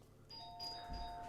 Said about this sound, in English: whenever the doorbell goes in this house, it's absolute commotion